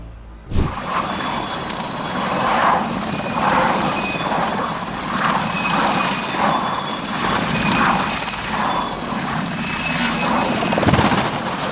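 Helicopter rotor noise from a rescue flight on Mount Hood in May 2002, a steady close rhythmic thudding with a sustained high turbine whine, loud and continuous with a sharp knock near the start, no talking.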